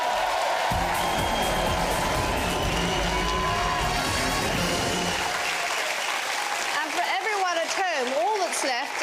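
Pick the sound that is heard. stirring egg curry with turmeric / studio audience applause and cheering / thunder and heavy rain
studio audience applause and cheering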